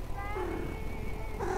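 A cartoonish cat meows in the horror video game Night Bus, giving a drawn-out, wavering mew that is clear and fairly loud over a steady low engine-like hum, with a second shorter meow rising at the end.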